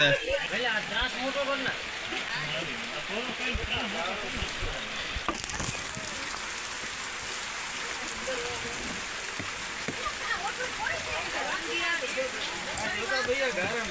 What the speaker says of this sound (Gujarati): આ વરસાદ છે કે ઓલે